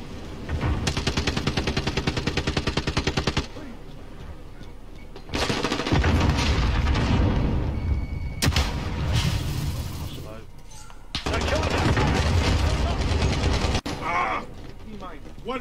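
Rapid automatic gunfire comes in long, loud, close bursts with short pauses between them during a Kill Confirmed match in a shooter video game.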